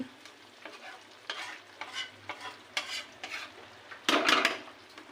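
Potatoes fry with a spice paste in a pan, stirred repeatedly with a utensil that scrapes in uneven strokes over a soft sizzle, ending in one louder burst of frying near the end, with no talk.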